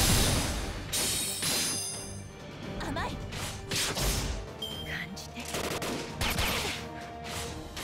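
Gunfire erupts in Fate/Grand Order combat, with loud clustered shots, crashes and impacts layered over game music and voices in a busy battle mix.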